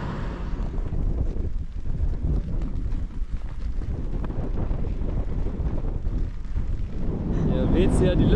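Strong wind buffeting the microphone at a lakeside in Iran, a continuous loud roaring rush throughout.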